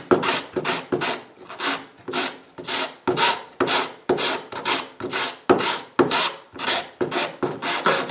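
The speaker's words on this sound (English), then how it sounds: "So I'll take a little bit of a file and clean this up a bit." A hand file rasps in steady back-and-forth strokes against a small wooden model ship part, about a dozen distinct, close scraping passes in an even rhythm with no talking.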